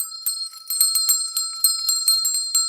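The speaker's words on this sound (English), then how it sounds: "I could dance to the ringing of the bell." A bell ringing repeatedly with bright, sustained metallic tones, struck in a steady cluster of overlapping strokes, loud and close with no voices.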